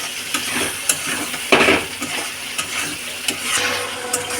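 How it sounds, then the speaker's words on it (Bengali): Chopped tomato stirred into spices frying in oil for a rui fish jhal: a steady close sizzle broken by repeated scraping stirring strokes, with one louder clattering stir partway through. "এবার টমেটো কুচিটা দিয়ে দেবো, দিয়ে খানিকটা নেড়ে নেবো।"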